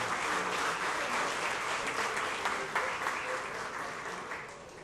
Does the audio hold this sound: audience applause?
yes